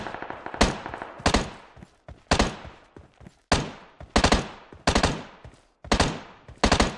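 Gunfire in the mobile battle royale game PUBG Mobile: sharp bursts of rapid shots in repeated clusters, loud and close, with brief gaps between volleys and no talk.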